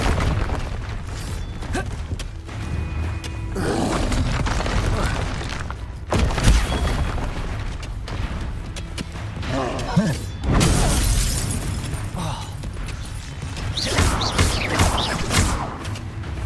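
Spell combat in Hogwarts Legacy: repeated blasts, booming explosions and glassy shattering bursts, with clanking mechanisms and thuds in a dense, continuous fight, game music and effects layered throughout.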